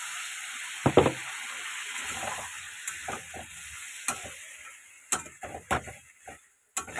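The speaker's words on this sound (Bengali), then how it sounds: "একটু ভালো করে ভাজা করে নেব" Masala paste of chilli, cumin and tomato frying in a pan, a soft continuous sizzle broken by sharp scraping clicks of a spoon stirring at irregular intervals, close and fairly quiet.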